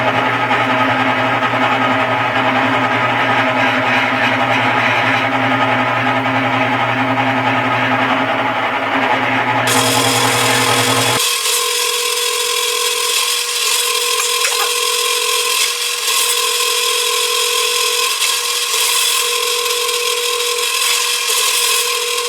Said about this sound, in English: So we'll go ahead and get started and drill this out.